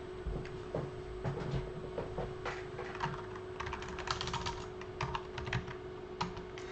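Typing on a computer keyboard while setting up a Sokoban game project, with a steady run of close, crisp key clicks over a constant low electrical hum, and no talk.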